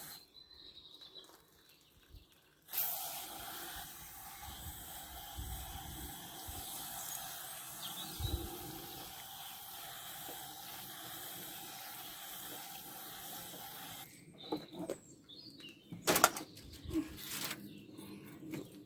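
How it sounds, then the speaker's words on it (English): A hanging basket plant gets watered, a steady soft hiss of water pouring through the compost lasting about twelve seconds, followed by faint rustling and a few clicks. "So let's give that a watering in."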